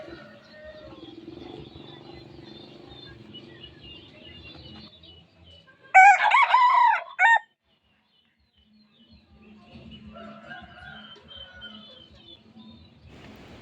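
A Thai decoy rooster crows once, a loud, close call lasting about a second and a half, set between stretches of quieter talk.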